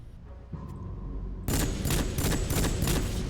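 Rapid gunfire from the video game Rogue Trooper erupts after a quiet stretch, a loud, steady burst of repeated shots that carries on to the end.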